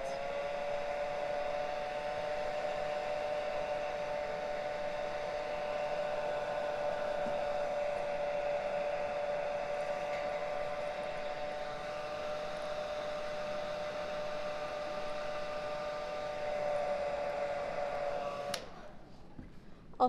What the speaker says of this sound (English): I'm going to go back to the hair dryer to dry this